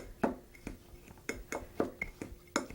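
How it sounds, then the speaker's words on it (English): A fork clinks against a bowl while blending an oil-based topping for blueberry pecan French toast, about eight sharp metallic taps in an irregular rhythm, close and clear with no talk. "you just want to take a fork and kind of blend this together"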